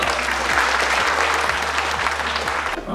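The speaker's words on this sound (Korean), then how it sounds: "박수 부탁드립니다." A crowd at a semiconductor forum in Wonju, South Korea claps loudly and continuously for a few seconds, dense steady applause filling the room.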